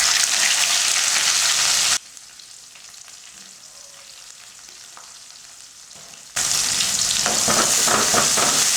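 Onion frying in hot oil with mustard seeds, urad dal, cumin and curry leaves for semiya upma, a loud crackling sizzle that drops away to near quiet for several seconds midway before the full sizzle returns.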